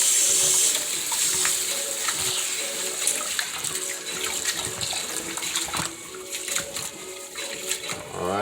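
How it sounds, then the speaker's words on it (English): Tap water runs steadily into a kitchen sink while rice is washed by hand, a continuous close splashing rush with faint sloshing of grains and water, no talk. "Okay, so I'm gonna wash the rice right now."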